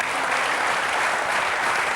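A theatre audience claps steadily and loudly throughout, a dense continuous wash of hands with no voices standing out.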